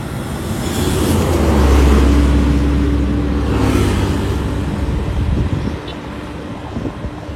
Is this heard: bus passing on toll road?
yes